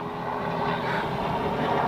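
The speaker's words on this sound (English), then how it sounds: "Oh wow, there's another one. A lot of helicopter traffic out here today." A helicopter passing overhead outdoors gives a steady, fairly loud rumbling engine drone with a broad noisy wash, continuous throughout and without voices.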